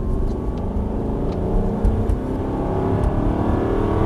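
An Aston Martin Vantage V8 engine drones steadily with a rumbling low hum, rising slightly as it accelerates, close and continuous throughout.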